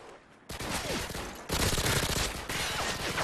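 Rapid bursts of gunfire in Modern Warfare 2, loud and dense, with the volume jumping up in steps as the shooting intensifies.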